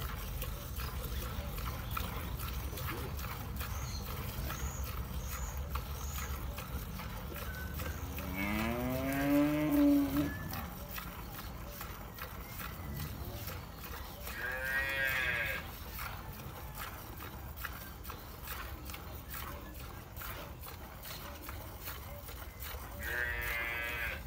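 A first-calf Jersey-Guernsey cow in a milking barn moos three times, loud and close, over steady barn noise and faint liquid sounds, with no speech.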